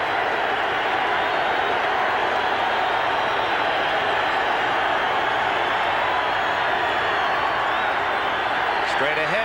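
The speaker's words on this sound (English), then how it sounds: "This crowd can get into the game, get noisy to the point where it's difficult to hear the signals." A 1986 Denver Broncos home football crowd roars in a dense, steady wash of stadium noise under continuous play-by-play commentary.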